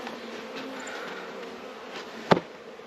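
Honeybees at a beehive during an early-season hive check, a faint steady buzzing hum close by with one sharp knock partway through and no speech.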